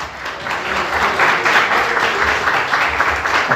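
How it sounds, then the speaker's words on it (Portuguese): A church congregation applauds during a sermon on Christ's second coming, giving several seconds of loud, sustained clapping from many hands. The clapping is close and steady with slight surges, and no talking is heard over it. "Aplauda Jesus."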